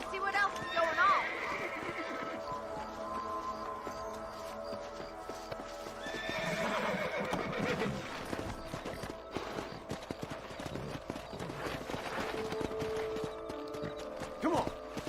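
Horse hooves clip-clopping at a steady walk with intermittent neighing in the western video game Red Dead Redemption, heard alongside game ambience and spoken voices throughout.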